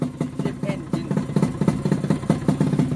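A Yamaha F1ZR two-stroke motorcycle engine held at high revs, around 9000 RPM, gives a close, steady, rapidly pulsing buzz with a quick rhythmic beat and a faint voice underneath.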